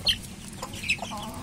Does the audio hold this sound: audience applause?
no